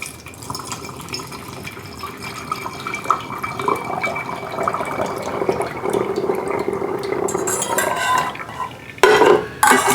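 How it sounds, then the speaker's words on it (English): Warm honey being stirred in a container with a utensil, a close scraping and gentle liquid swirl that grows busier, ending with a sharper clatter of the spoon against the container. "Make sure I stir it up, and we're going to put that in the bottle."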